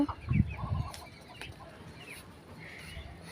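Chickens on a rooftop let out a couple of close, loud clucks at first, then fainter scattered calls follow over a quiet background.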